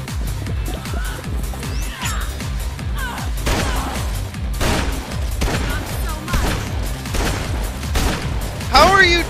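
Shotgun blasts and heavy impacts in Dead Rising 2, several loud, sharp bursts in an irregular rhythm amid crashing game action, with a voice talking over them.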